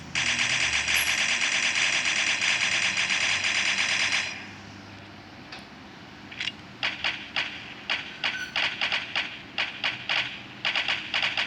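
Gunfire in the shooting video game Crisis Action: a sustained loud machine-gun burst, then a pause followed by repeated short bursts of shots in an uneven rhythm.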